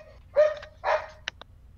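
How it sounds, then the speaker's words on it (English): A pet dog barks twice nearby in short loud bursts, followed by a couple of faint clicks, with no talk over it. "And there goes my dog"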